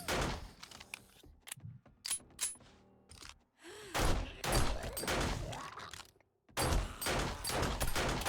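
Bursts of gunfire in the zombie game 7 Days to Die crackle in irregular volleys, loud and sharp, with brief pauses between them.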